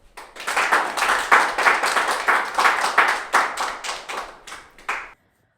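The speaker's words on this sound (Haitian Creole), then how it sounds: "Maintenant nous applaudir chaleureusement Lucia Dipoy" An audience at the Konkou Chanpyon Lakay 2021 final ceremony applauds the executive director: dense, close, crisp clapping that swells and then tapers off for about five seconds before stopping abruptly.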